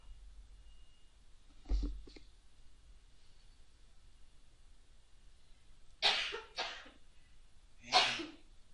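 A few short coughs in a lecture room, one low muffled burst followed by two sharper coughs several seconds later, fairly close over quiet room hiss.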